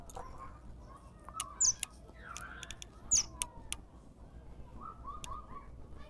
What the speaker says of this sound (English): Oh, these birds are so close.